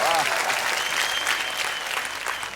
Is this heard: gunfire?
no